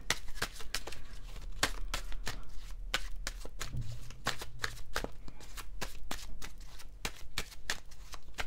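Playing cards dealt one by one onto a table during a tarot-style reading, a steady series of sharp slaps and flicks, close and fairly loud, with no talking.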